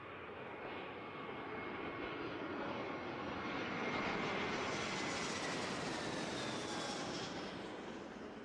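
A jet aircraft engine roars in a broad, continuous rush that swells gradually toward the middle and holds steady, loud and close, with no voices.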